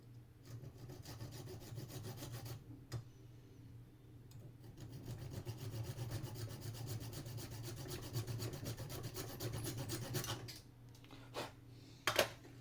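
Prayer bead material being sawn or filed at one corner gives a steady, close rasping scrape that runs continuously for about ten seconds under a low hum, with a few sharp clicks near the end.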